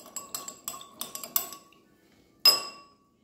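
A spoon taps and clinks against a glass while stirring an aloe drink, with a quick run of light metallic strikes, then a pause and one final ringing clink that fades out.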